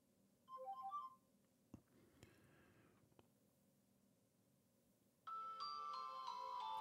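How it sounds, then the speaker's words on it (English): Short electronic melodic tones from a Nokia E51 mobile phone play, pause, then a sustained bright multi-note polyphonic ringtone melody starts loudly near the end. "Just your general polyphonic ringtones"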